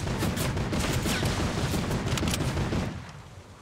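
Dense, continuous gunfire in the video game Fortnite, a loud rapid volley of shots and impacts that drops off sharply near the end.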